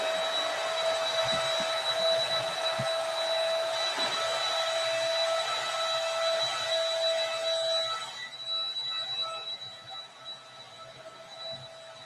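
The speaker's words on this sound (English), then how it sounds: "Something dropped out of my bag, and I'm gonna have to vacuum that up." Vacuum cleaner running in an apartment with a steady loud whine for about eight seconds before it fades and winds down, with faint bumps underneath.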